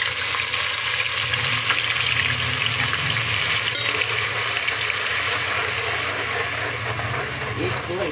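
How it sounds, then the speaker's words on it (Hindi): Two ground onions fry in a pan of oil for a kofta curry, giving a loud, steady sizzle that fills the whole stretch, with a few faint stirring scrapes in the mix. "ये अब मैं डालने लगी हूँ प्याज"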